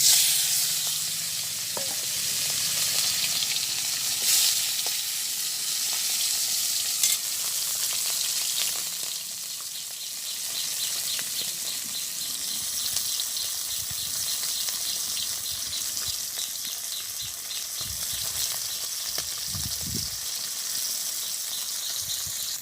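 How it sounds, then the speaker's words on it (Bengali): Fish, a folui and a small bata, frying in hot oil with a loud, continuous close sizzle and hiss that holds steady throughout, with occasional spattering crackles and low bumps. "তেল গরম হয়ে গেছে, আমি এখন মাছটা দিয়ে দেবো।"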